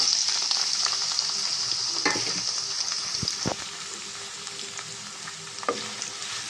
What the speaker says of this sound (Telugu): ఆయిల్ అయితే వేడైందండి, దీంట్లో వేసేద్దామండి ఉల్లిపాయలు